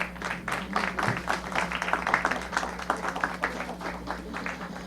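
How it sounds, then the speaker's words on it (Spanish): A modest audience claps for an award presentation at a health services forum, scattered, uneven handclaps from a smallish group against a low steady hum, fairly quiet. "Fuerte el aplauso, por favor"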